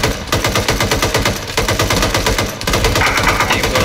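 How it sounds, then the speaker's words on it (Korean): Machine gun fire in the video game Arma 3 during a night operation: a long, loud, steady burst of rapid shots with an even rhythm, close and continuous throughout. "지금 쏘는 기관총 아직 처리 안 됐어"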